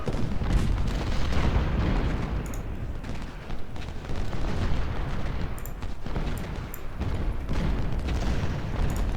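Cannon artillery fire in the Civil War strategy game Ultimate General: Civil War, set at the Battle of Shiloh: a dense, continuous barrage of heavy booms and rumbling blasts, loud and overlapping with sharp pops scattered throughout.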